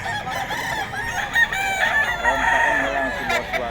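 Boston White gamefowl rooster crowing up close in a long, loud drawn-out call, with clucking fowl and faint talk in the background.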